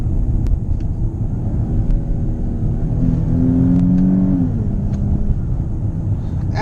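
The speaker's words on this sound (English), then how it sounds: "So like I'm gonna downshift now a couple gears." 2018 Dodge Charger GT AWD with an 8-speed ZF automatic downshifts under a steady cabin drone, engine note rising in a couple of stepped revving swells mid-way before settling back to a low hum.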